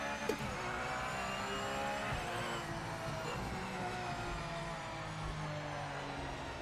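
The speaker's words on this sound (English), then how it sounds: "Oh yeah, this is a Porsche Cup car." Porsche Cup race car engine in the Project Motor Racing sim game, a steady loud whine with rising and falling pitch as the car accelerates and shifts, heard alone without talk.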